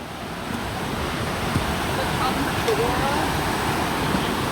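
Creek water flowing at a crossing in a rainforest, a steady broadband rush with some wind over the microphone, continuous and fairly close.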